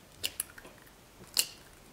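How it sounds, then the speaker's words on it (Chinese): Two eggs are cracked into a bowl at home, heard as a few short, close taps and a wet squish spread across a quiet stretch. "盆中打入2颗鸡蛋"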